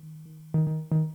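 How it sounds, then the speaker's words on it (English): A sustained modular synth tone from a Mutable Instruments Tides patch runs through a Mimeophone echo, with repeats returning as bright pulsing swells that stack over the steady drone in a quick rhythmic sequence. "You see, that was the echo coming back."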